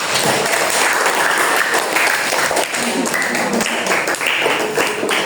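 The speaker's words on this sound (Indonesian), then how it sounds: "tepuk tangan kelompok satu." A classroom group applauds its first team after a microscope-parts presentation, steady dense clapping filling the room throughout, with faint voices mixed in.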